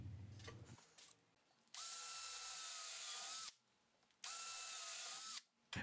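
Power screwdriver driving screws to fix string guides into pilot holes on a homemade electric guitar body built from an old wall clock, two sustained whirring bursts with a short pause between, close and alone.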